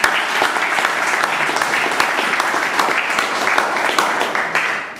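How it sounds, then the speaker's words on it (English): Loud, sustained audience applause fills the room, many hands clapping in a dense, even patter that holds steady for several seconds before easing slightly at the end. "Let us give him a big round of applause."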